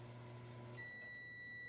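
A microwave oven hums faintly, then gives a high, thin completion beep as it finishes cooking, quiet and close in an indoor kitchen.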